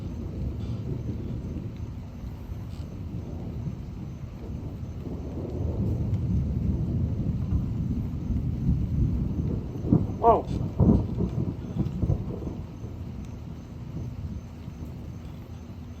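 Thunder crackles and rumbles through a gusty thunderstorm, with steady wind noise and a sharper crackling burst partway through. One voice gives a brief exclamation.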